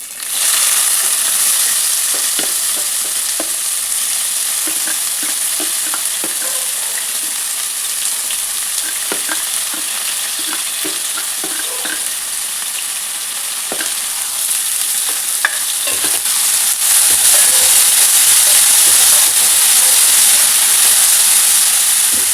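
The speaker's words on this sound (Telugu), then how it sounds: "జీలకర్ర, ముందుగా కట్ చేసి పెట్టుకున్న ఆనియన్, మిర్చి యాడ్ చేస్తాను" Cumin, chopped onion and green chili fry loudly in a hot pan, a dense continuous sizzle and hiss with scattered stirring scrapes, close and steady with no talk over it.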